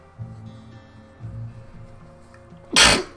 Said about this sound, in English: Oh, I've been sneezing a lot.